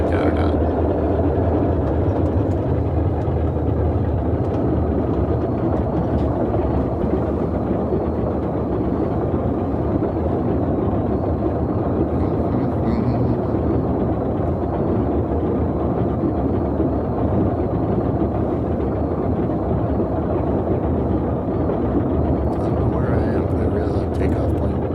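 The twin engines of a Boeing 247 idle while warming up in Microsoft Flight Simulator. They make a steady, unbroken droning roar that stays constant throughout the long stretch.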